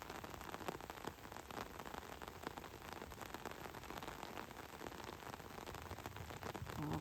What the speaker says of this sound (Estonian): nii vihm teeb ikka tuju rõõmsaks tüüpidel